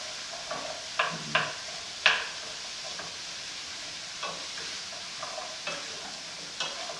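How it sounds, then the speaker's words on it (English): Butternut squash, mushrooms and sausage sautéing in a crowded skillet for risotto, a soft low sizzle with scattered light clicks and scrapes of stirring, fairly faint and without speech. "saute for about another couple of minutes, after which we will add our rice"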